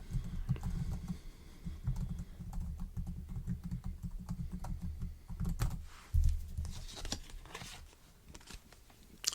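Steady typing on a computer keyboard during a role-played hotel check-in, a close, continuous patter of key presses running for several seconds with a few heavier thumps, no talking.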